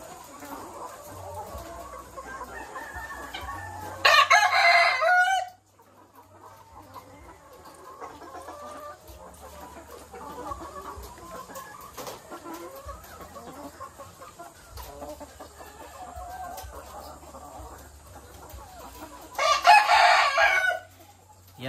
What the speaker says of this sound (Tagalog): Yan po yung ating mga manok sa ating layer building number 1 mga kaitlog